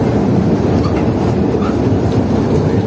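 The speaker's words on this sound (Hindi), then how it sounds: "छांगा मांगा स्पेशल ट्रेन।" Changa Manga special toy train rolls through forest, a loud, close, continuous rumble of wagons with a steady clatter of wheels on the rails and no voices.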